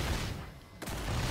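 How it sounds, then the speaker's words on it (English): Kaboom Stick weapon firing in Killing Floor 2, a single sharp blast that cuts in abruptly and rumbles on against dense game noise. "I like the kaboom stick."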